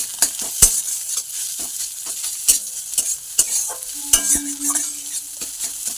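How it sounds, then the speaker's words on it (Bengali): Egg scrambles in a frying pan, a soft sizzle under repeated scraping and clinking strokes of a utensil stirring it, close and fairly quiet with uneven rhythm. "ডিমটা এবারে কুচু কুচু হয়ে মানে ঝুরু ঝুরু করে ভেজে নেব"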